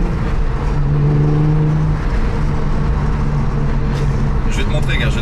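A Porsche engine hums and pulls steadily from inside the car while cruising in fifth gear, a loud continuous drone under someone talking, with the pitch shifting slightly as it accelerates.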